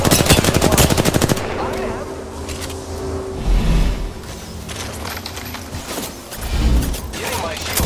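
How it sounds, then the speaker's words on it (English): Rapid automatic gunfire from an Apex Legends match, a dense burst of shots up close at first, then scattered bursts and impacts continuing beneath game voice callouts. "Getting shot at."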